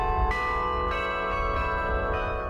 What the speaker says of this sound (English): a lot of people have heard carillons or heard bells